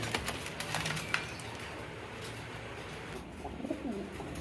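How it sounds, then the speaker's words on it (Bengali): A pair of large Rajshahi Giribaz pigeons coo softly nearby, with low throaty calls rising and falling over a background of clatter and a few sharp taps or wing flutters near the start. "এখানে এক জোড়া রাজশাহী গিরিবাজ দেখতে পাচ্ছেন"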